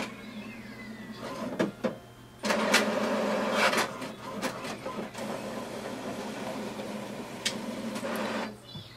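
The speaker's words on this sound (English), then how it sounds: "So here we can see that it has printed a page." An HP Deskjet 2710 wireless printer printing a page: a low motor hum and whirring carriage passes broken by sharp mechanical clicks and clunks, fairly close and heard alone.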